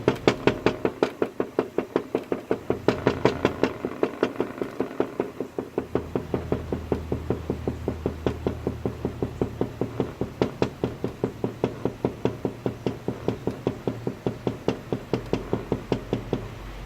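Rapid, steady knocking on a door, dozens of quick even raps in a continuous rhythm, close and crisp, with no voices.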